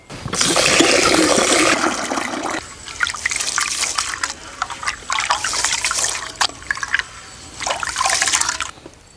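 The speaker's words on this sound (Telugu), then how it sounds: "ఈ రెండింటిని శుభ్రంగా కడుక్కొని ఒక అరగంట సేపు నానబెట్టుకోవాలి" Rice and pigeon pea lentils are rinsed in water in a vessel outdoors on a farm, making bursts of sloshing, splashing and pouring with short pauses of dripping between them.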